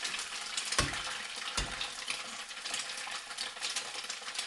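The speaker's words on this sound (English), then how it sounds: "You can hear that sizzle." Cracked eggs sizzle and fry in a pan, a steady bright crackling hiss with a couple of louder pops near the start, close and fairly quiet, with no voices.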